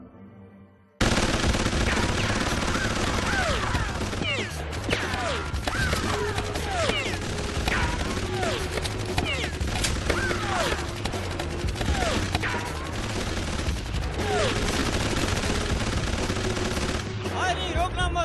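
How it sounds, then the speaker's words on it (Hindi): Sustained automatic gunfire in the animated action comedy Killer Bean Forever: rapid bursts, ricochet whines and impacts going on almost nonstop for many seconds, loud and dense, with brief voices mixed in. "वो यहाँ सब पर गोली चला रहा है।"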